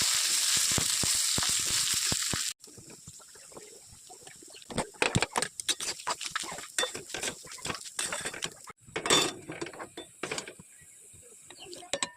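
Bay leaf, dried chilli and cumin hitting hot oil in a pan, a loud hiss at first that drops off, followed by scattered crackles, scrapes and clattering against the pan, with no talk.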